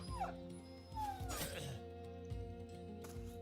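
A dog whimpers and yelps in the Battle Brothers video game, short whining cries over a low droning game soundtrack, fairly quiet and with no talk.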